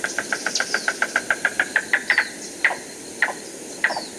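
A cuckoo calls on a survey sound recorder in southeast Arizona, a rapid series of sharp, evenly spaced notes that slow into a few spaced calls, moderately loud over faint background hiss.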